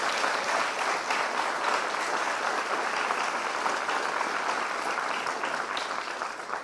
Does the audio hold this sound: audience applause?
yes